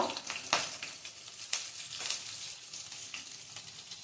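Asafoetida dropped into hot oil for a Shravan ghevda bean stir-fry, giving a soft, steady sizzle and crackle with a few sharper pops, faint and without voices.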